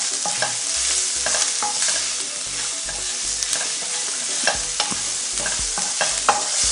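Salted egg ginger fried rice is tossed in a hot pan, with a loud continuous sizzle under repeated rhythmic spatula scrapes and knocks.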